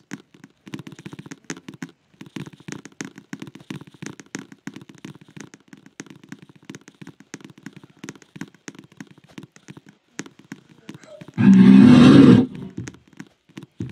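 A loud, brief lion roar in the game Piggy Book 2 bursts out near the end, following a long stretch of quiet clicking and tapping game sounds.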